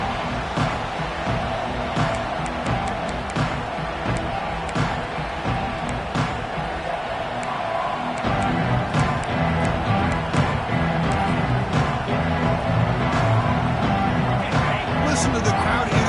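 A big crowd roars and cheers in an open football stadium during a West Virginia vs UCLA game, the noise swelling partway through, with a commentator talking over it.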